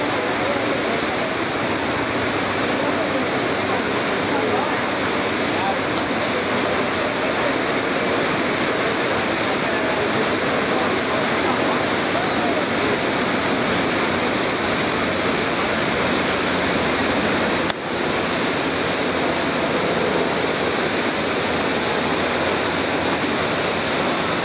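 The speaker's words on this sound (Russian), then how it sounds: "Этот водопад дьявола, кажется." Iguazu Falls, seen from the Brazilian side at the Devil's Throat, roars in a steady, dense wash of broadband noise, loud and continuous throughout with no breaks.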